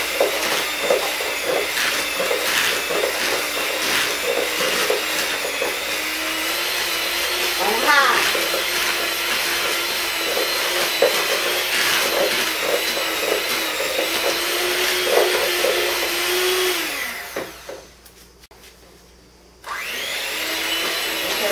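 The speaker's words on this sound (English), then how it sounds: "We're going to mix it for about two minutes." An electric mixer beats cookie dough with a loud, steady whirring drone for a long stretch, its pitch wavering slightly before it cuts out and then briefly restarts.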